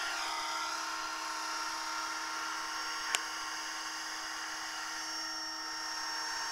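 A steady high-pitched electric whine from an HK500GT radio-controlled model helicopter in flight, constant and unbroken apart from one brief click midway, with no talking.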